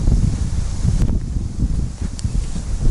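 Strong wind buffets the microphone in a continuous, loud low rumble with gusty swells and no voices.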